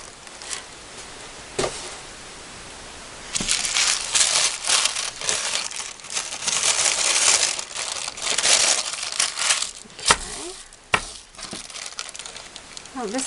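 Plain tissue paper is crumpled and crinkled by hand, starting with a few soft rustles and then building into bursts of loud, close crackling with sharp crinkles near the end.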